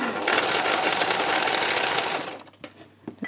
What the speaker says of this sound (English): I'm just doing a zigzag stitch over it